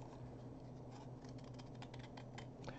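A cup handle is cut out with scissors for a hot chocolate craft, giving faint, quick snipping clicks over a steady low background hum.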